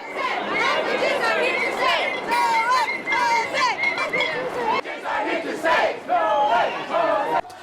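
A 2,000-strong student protest crowd marches down University Avenue, a loud, dense wash of chanting and shouting voices that rises and falls in waves, close and continuous throughout.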